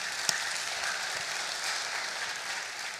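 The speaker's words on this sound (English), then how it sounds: "we can clap for that" A church congregation claps in a steady, even wash of applause that holds at a moderate level throughout, with one sharper clap near the start.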